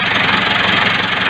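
The engine of a 375 tractor idles with a steady, dense knocking rumble, loud and close, with no talk over it.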